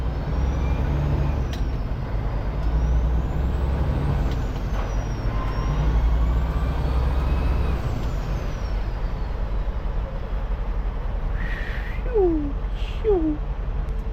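A Peterbilt 389 semi truck engine rumbles loudly with a rising and falling turbocharger whine overhead, then a sharp hiss of air brakes near the end.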